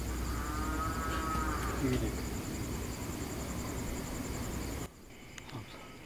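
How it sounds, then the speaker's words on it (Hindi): Cattle moo in the distance over steady insect chirring outdoors, with a faint background hum and a voice nearby. "गाय भैंस की आवाज है।"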